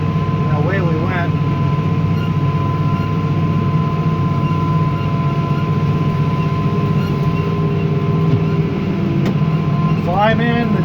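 A New Holland T7.210 tractor engine runs at a steady, loud drone inside the cab while cutting hay with an H7450 disc bine, a constant mechanical hum filling the clip, with brief voice sounds near the start and end.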